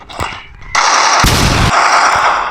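Gunfire in a video game on a beach map, a loud burst of shots that swells into dense noise midway and holds steady near the end.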